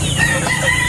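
A Lazy Gilmore breeder rooster crowing in a farmyard, a brief sustained call with no talking, set against steady background noise.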